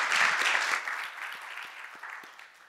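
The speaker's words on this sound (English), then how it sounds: "let's give him a warm round of applause" An audience at an architecture talk applauds, a full burst of clapping that begins strong and gradually fades over a few seconds.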